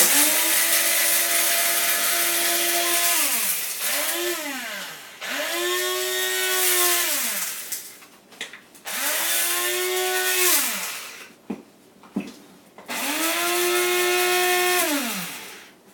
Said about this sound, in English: we'll just grind those together